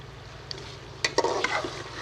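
Ground garam masala being stirred into beef korma in a pan, a few scraping spoon strokes with soft sizzling, mostly in the second half, close and fairly quiet.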